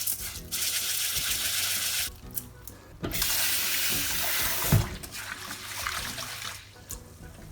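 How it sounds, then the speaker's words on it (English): Tap water runs in bursts over rice in a bowl, interrupted by short pauses, with grains rattling and clinking as they are swirled. "And then wash away all the starch around."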